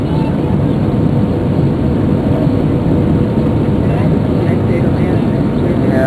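Loud, steady broadband roar of a JetBlue A320 airliner landing at JFK, heard from aboard the aircraft as a constant cabin rumble throughout, with faint voices buried underneath.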